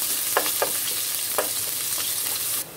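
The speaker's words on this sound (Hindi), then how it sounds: "अब हम इसमें अपना प्याज डाल देंगे।" Onions fry in refined oil in a kadai, giving a continuous hiss with a few sharp spatula taps against the metal, before the sizzle drops away abruptly at the end.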